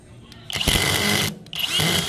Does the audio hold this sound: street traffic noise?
no